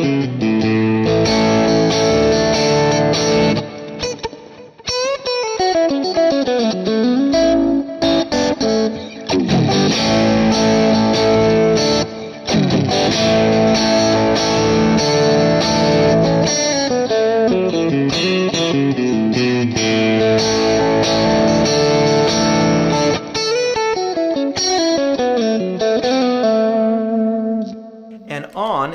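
Electric guitar through a Quad Cortex amp modeler plays loud, effected riffs and sliding chords with distortion and echo, sustained for nearly half a minute with short pauses.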